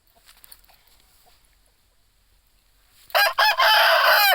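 A Chinese-coloured Aseel rooster lets out a loud, close crow in the final second or so, following several seconds of faint, near-silent background.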